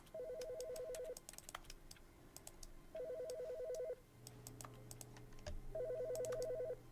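A telephone rings in The Stanley Parable Ultra Deluxe video game, three bursts of an electronic ringtone with pauses between, accompanied by scattered clicks and keyboard-like taps.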